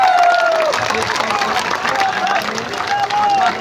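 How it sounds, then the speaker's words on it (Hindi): Large crowd at a political rally in India applauding and cheering steadily, a dense wash of clapping and voices throughout, with a whistle-like tone rising over the noise. "जोरदार ताली बजाइए"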